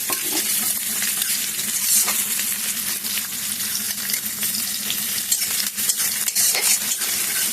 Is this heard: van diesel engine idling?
no